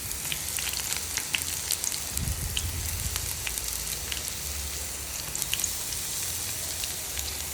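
Stuffed ridge gourd fries in oil in a pan for a North Karnataka-style palya, giving a steady, soft sizzle with scattered crackles and pops throughout, with no talking.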